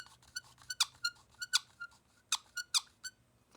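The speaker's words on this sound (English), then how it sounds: "a cheap plastic movable ring that makes a weird squeaky wheel sound" Short, high plastic squeaks in an irregular series, close and fairly quiet, as a cheap plastic movable ring on budget binoculars is turned back and forth.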